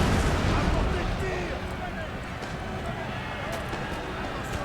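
A fortress wall collapses under artillery bombardment during a Napoleon: Total War siege battle, a dense crumbling rumble loudest at the start that settles into a sustained roar of battle noise, with faint voices underneath.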